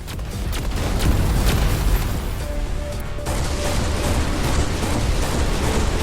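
Incoming torpedoes detonate around a spaceship in Everspace 2, a continuous roar of heavy booms and crackling blasts that stays loud and dense throughout, with no speech.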